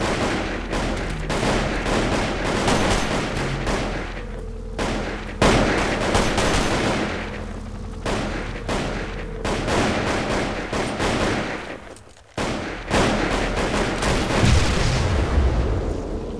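Heavy sustained gunfire in the video game Delta Force, loud rapid automatic bursts and fusillades rolling almost continuously, with brief pauses and booming reports.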